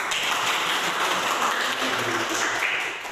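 A classroom audience claps in a steady, even wash of applause for about three seconds, fairly close and loud, tapering slightly at the end.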